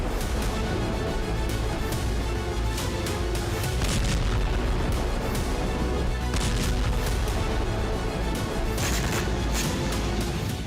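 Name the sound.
explosions from attacks on a Russian oil refinery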